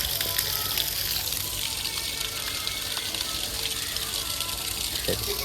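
At a Ramagiri Shiva temple, water pours continuously from the mouth of a Nandi statue into the temple tank, making a steady, unbroken rushing splash that sounds close.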